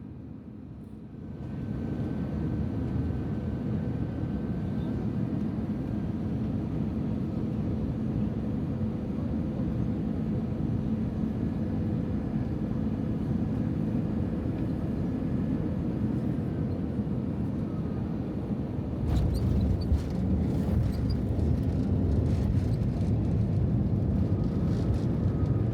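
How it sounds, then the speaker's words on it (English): A Vietjet airliner touching down on runway 35 left at Da Nang, heard from inside the cabin as a loud, steady roar of engines and airflow, with a rougher rumble and rattle as the wheels meet the runway near the end. "Enjoy this actually very soft landing."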